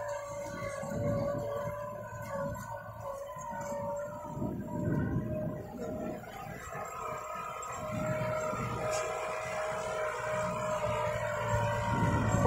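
A 75 HP New Holland 5630 tractor pulling a 34-disc power folding harrow in a field produces a steady droning engine hum with a sustained whining tone, fairly faint and continuous, with no talk.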